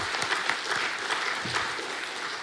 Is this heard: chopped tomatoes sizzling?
no